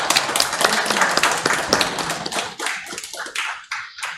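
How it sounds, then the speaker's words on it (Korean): Audience applause at a Korean production and operations management society's autumn 2020 academic conference award ceremony: a dense, loud burst of many hands clapping, then thinning into scattered claps before fading. "네, 큰 박수로 해주시기 바랍니다."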